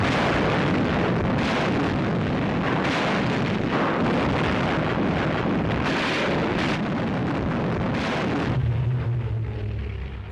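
Heavy artillery fire in a war setting, loud overlapping booms and blasts rumbling one after another with no break, a low rolling tail at the end.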